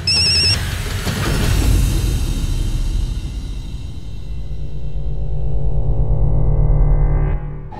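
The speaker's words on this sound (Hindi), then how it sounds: "मां फोन कर रही है।" A phone rings in an indoor scene from a Hindi TV drama, with a repeating electronic ringtone over a low background hum across the clip.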